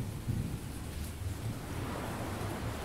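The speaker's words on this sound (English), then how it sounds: "That was my go-to. Thunder and waves." Ambient thunder and waves soundscape: a continuous low roar of surf and distant rumbling thunder under a steady broadband hiss, with slight swells in loudness and no speech.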